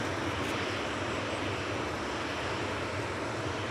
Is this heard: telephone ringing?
no